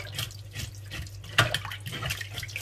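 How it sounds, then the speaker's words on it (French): Water runs from a kitchen tap while sea bream are cleaned, a steady splashing stream with brief clatter before the flow is turned off. "J'arrête l'eau."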